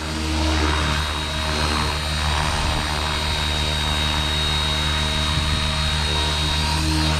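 Spektrum 6250HX flybarless RC helicopter flying at low head speed over weeds outdoors, its steady rotor and motor whine droning loud and continuous throughout with no talking.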